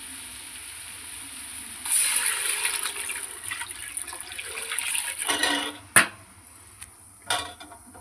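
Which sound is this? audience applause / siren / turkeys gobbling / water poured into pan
water poured into pan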